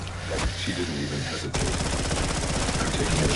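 Rapid gunfire from killing zombies with the Rampage Inducer in Call of Duty Zombies, a dense continuous volley that turns harsher and louder halfway through, with game sounds layered underneath.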